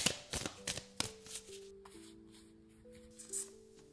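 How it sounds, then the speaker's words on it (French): Oracle cards being shuffled during a card reading: soft papery riffles and taps in quick bursts, close and fairly quiet, with a faint steady tone running underneath. "Je vais mélanger et on va faire le tirage."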